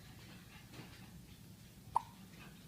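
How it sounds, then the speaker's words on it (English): A baby's single short hiccup pops out near the middle, a brief sharp sound over a quiet room with faint background hum. "Does he have hiccups?"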